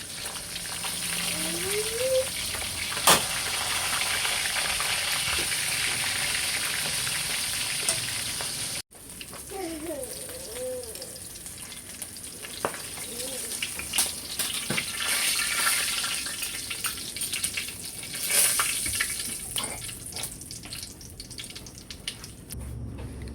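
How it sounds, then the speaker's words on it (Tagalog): Milkfish fries in a pan of oil with a loud, constant crackling sizzle, interrupted by a brief break and occasional clinks and clatters of a utensil. "Akin na pong aahunin yung pong piniprito ko po na bangus."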